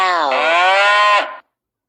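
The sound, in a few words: cow mooing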